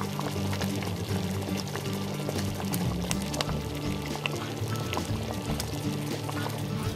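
Packed light brown sugar being poured into a pot of apple jam, giving a soft, steady granular rush that runs throughout at close range and low volume with faint kitchen clatter.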